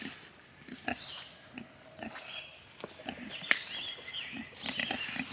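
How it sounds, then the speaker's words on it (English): Pigs in a new paddock on a woodland homestead make a run of short grunting and snorting bursts at close range, scattered irregularly over steady outdoor background noise with no talking. "Good morning, pigs."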